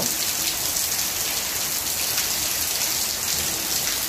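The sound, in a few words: rain falling in drops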